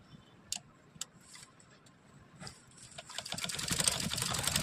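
A domestic sewing machine stitching a princess cut blouse, with a few sharp ticks at first, then a steady, rising mechanical whir of running stitches at close range and no talk.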